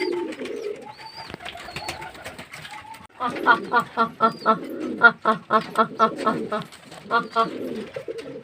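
Pigeons coo and murmur in a steady, close chorus while drinking water in hot weather, with rhythmic bursts of wing flapping and cooing in the second half.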